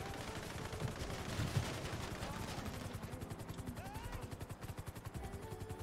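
Rapid gunfire from a police shootout in a video game, a steady stream of quick shots running through the whole stretch with bursts layered under voices talking.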